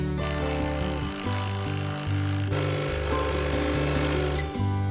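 A loud, continuous mechanical whine with shifting pitch from a power drill running steadily during a rustic bathhouse build, sustained throughout with brief changes in speed.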